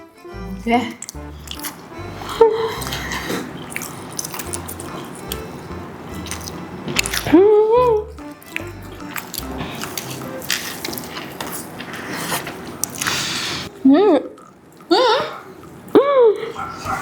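Bites of a burger taken without hands during an eating challenge produce close, wet squishing and chewing noises in short bursts, with people talking between and over them.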